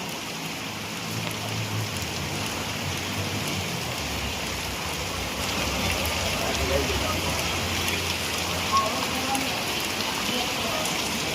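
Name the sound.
torrential rain in Valsad city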